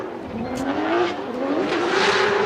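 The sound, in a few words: BMW M3 drift car engine revving at full throttle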